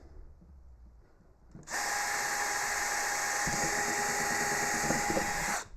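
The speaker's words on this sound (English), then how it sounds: "I am pre-drilling all these before I cut them" A power drill whines steadily as it pre-drills a hole into wood, loud and close, starting after a quiet moment and running for about four seconds at constant speed before stopping.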